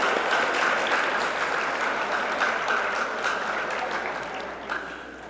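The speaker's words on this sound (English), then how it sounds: "Give yourselves a round of applause." An audience at a school accreditation visiting committee final presentation breaks into broad, sustained applause, many hands clapping together loudly before the sound gradually thins toward the end.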